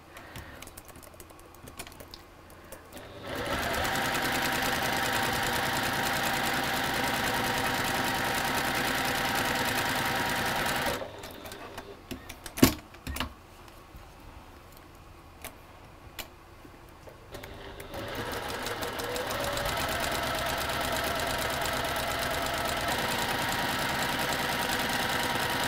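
A sewing machine stitches a quarter inch from a marked line on quilting fabric for half square triangles, running in two steady whirring stretches with a quiet pause between.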